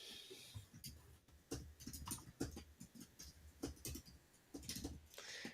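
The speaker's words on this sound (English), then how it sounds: "I'm just typing an update real quick" Rapid irregular clicks of a computer keyboard being typed on, bursts of keystrokes close by, with no talking.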